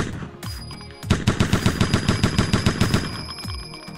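Rapid automatic gunfire in a MetaHuman shooting demo game, a burst of about a dozen evenly spaced loud shots over a steady background hum, with scattered single shots before and after.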